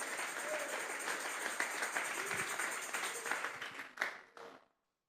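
A church congregation gives sustained applause as an offering to God, a dense, steady wash of many hands clapping that swells slightly near the end before cutting off abruptly.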